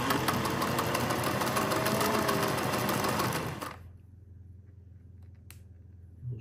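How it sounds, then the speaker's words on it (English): A 1950s Singer 403A sewing machine runs a straight stitch with a steady, fast mechanical whir for about three and a half seconds, then stops, leaving quiet room tone and a few small clicks. "Next, you'll see me sewing on it. I'll start off by doing a straight stitch in two different stitch lengths."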